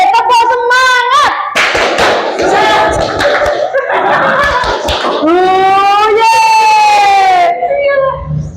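A school class performs the 'tepuk semangat' clapping chant, with children's voices shouting in chorus alongside bursts of rhythmic clapping, ending in a long, sustained cheer.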